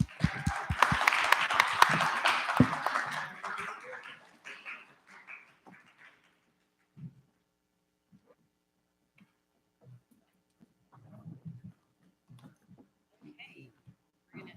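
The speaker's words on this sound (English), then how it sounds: "Another round of applause for everyone." Applause for participants at a hackathon livestream: dense clapping in the opening seconds that thins out and fades, followed by quiet gaps with occasional faint voices and small noises.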